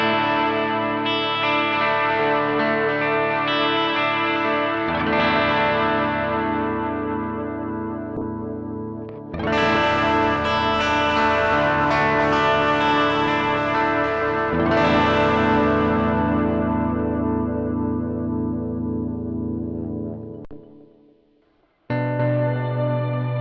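Electric guitar played through effects pedals into a CabZeus cabinet emulator by GFI Systems, run in stereo, giving sustained distorted chords with long ringing decays, a brief drop to near silence and a final loud strum, with no talk.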